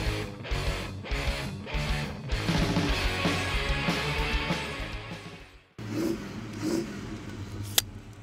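An abandoned 1970 Oldsmobile Cutlass with low compression revs up loudly in repeated rising bursts, then cuts out briefly and restarts with rougher clattering revs.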